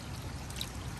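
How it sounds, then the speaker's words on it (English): Large pacu fish splash in a backyard pond, a steady watery churn and sloshing heard close up with no voices. "Look at those big splashes are paku."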